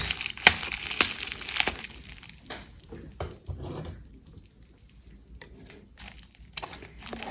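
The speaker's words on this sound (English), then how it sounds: "So let's unbox this and I will show you what it is all about." Pigmenta metallic watercolour set pulled from its packaging, with close crinkling, crumpling and tearing of wrapping in irregular bursts, sharp rustles early and late around quieter handling.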